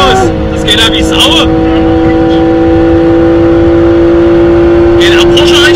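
A car engine roars loudly and steadily up close, holding a strong, sustained drone throughout. Bursts of chatter and other noise sit on top of the engine sound.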